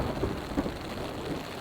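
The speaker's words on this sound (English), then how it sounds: "There's a thunderstorm over here, and there's another one over here." A thunderstorm high in the Colorado mountains brings steady rain pattering on surfaces and a low, distant rumble of thunder underneath, fairly faint and continuous, with no talk.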